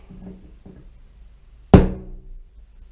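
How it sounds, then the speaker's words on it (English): A hammer taps a center punch on a hole, a single sharp metallic tap preceded by a couple of faint scraping knocks, then fading with a short ring. "Now we're going to center punch these holes"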